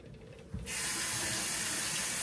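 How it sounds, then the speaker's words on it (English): Water gushes suddenly and steadily into a container for an energy drink, starting after a brief clunk and continuing as a loud, close, broadband rush. "I should put the water in first."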